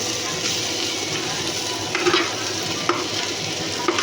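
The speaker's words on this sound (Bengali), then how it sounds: "তো পেঁয়াজটা আর সবজিটা পুরো ভাজা ভাজা হয়ে এসেছে, আর একটু ভেজে নিতে হবে।" Onion and vegetables stir-fry in a pan for chowmein. A continuous close sizzle is broken by a few sharp scrapes of stirring.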